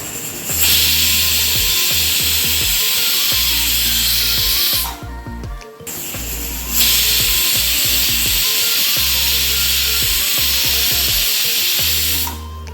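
A kitchen pressure cooker of soya chunks being cooked for masala lets off two long, loud, hissing steam whistles close by, separated by a short quiet gap.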